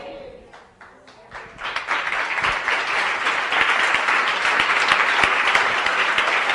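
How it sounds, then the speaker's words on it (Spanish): Church congregation breaking into applause during a sermon, starting with a few scattered claps and swelling into sustained, dense clapping that holds steady to the end. "Noté a 14 hermanos que aplaudieron con efecto retardado."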